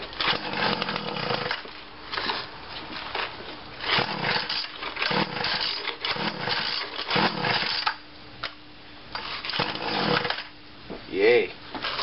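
A Weed Eater GTI 19 string trimmer, primed with spray into the spark plug hole and on full choke, sputters and revs in uneven bursts that rise and drop over several seconds, with faint voices in the background.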